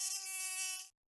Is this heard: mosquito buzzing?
yes